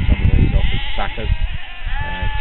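Lambs sired by composite rams bleat continuously in a farm paddock, with several overlapping calls close by and loud against steady background noise.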